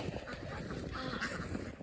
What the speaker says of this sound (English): Ducks, yeah.